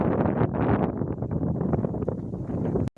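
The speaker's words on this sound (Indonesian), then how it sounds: "lumayan anginnya juga kencang, jadi suara juga terbawa angin" Strong wind buffets the microphone over onion fields, a loud rumbling roar that gusts and swells for a few seconds before cutting off abruptly.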